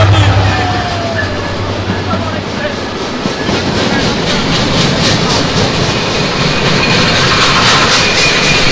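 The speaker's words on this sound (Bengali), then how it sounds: "আর ঢাকা থেকে ছেড়ে আসছে আন্তনগর সুন্দরবন এক্সপ্রেস ওরফে সুন্দরী আপু 63 সিরিজের লোকোমোটিভ।" Sundarban Express intercity train hauled by a 63-series locomotive rolls through a crossing on the Dhaka line, a loud continuous rumble and rattle of wagons with a low engine hum fading early and rail clatter building.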